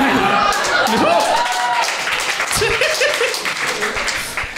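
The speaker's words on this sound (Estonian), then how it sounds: "Kõige patroniseerivam aplaus, mis ma elus saan" Applause and clapping from a comedy show audience, a dense broadband patter filling the whole stretch at steady loudness, with a voice speaking over it from the stage.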